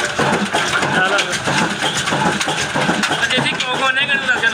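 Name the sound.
old diesel engine running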